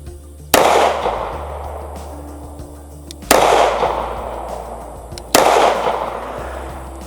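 Three loud, evenly spaced pistol shots from a Kimber CDS9 firing Critical Defense Lite ammunition, each a sharp crack with a lingering echoing tail, heard close and alone without talk.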